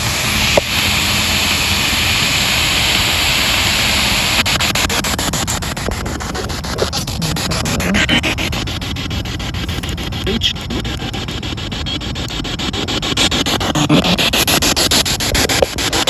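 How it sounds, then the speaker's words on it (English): Spirit box radio sweeping rapidly through stations at night in a cemetery, giving a steady, loud hiss of broadband static broken by quick choppy clicks and brief fragments, continuous for the whole stretch with no clear talk. "I'm about to turn the spirit box on now."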